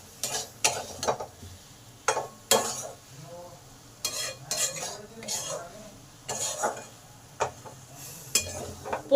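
Poppy seed paste and potatoes are sautéed in a pan with a spoon, giving repeated scraping strokes and clinks over a soft sizzle in an irregular stirring rhythm.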